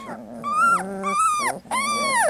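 Puppies yip and bark in high, whining bursts mixed with small growls, three close, loud outbursts in quick succession with no voices.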